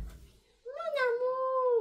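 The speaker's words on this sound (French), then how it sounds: "je sais pas si vous vous en rappelez, ça, c'est mon chat" A pet cat lets out a single drawn-out, rising meow, close and clear, following a brief low rustle and a moment of quiet.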